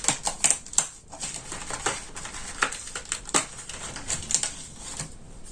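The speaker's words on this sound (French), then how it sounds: "Alors, on va découper tout doucement." Scissors cut slowly around a small paper penguin for a Christmas scrapbooking mini album, making close, irregular crisp snips and rustles of paper with brief gaps between cuts.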